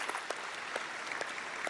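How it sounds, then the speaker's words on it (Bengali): A studio audience claps during a Bengali family quiz show, soft and distant, steady patter with a few sharper claps standing out. "জোরে হাততালি"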